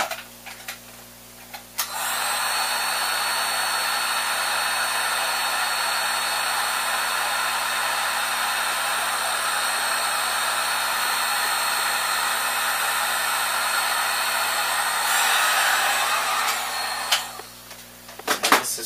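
A heat gun shrinks heat-shrink tubing over a wire during 3D printer assembly. It gives a loud, steady, hair-dryer-like blowing whine that starts abruptly, runs for about fifteen seconds and then cuts off, with no talking.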